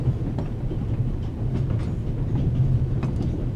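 A train runs steadily in The Raven Remastered, a loud continuous low rumble with faint rhythmic clacking of wheels on rails.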